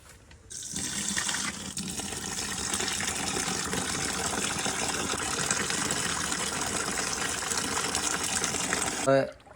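Water is poured out for young buffalo calves on a farm, a steady rushing splash that starts quickly, runs almost the whole time and cuts off near the end.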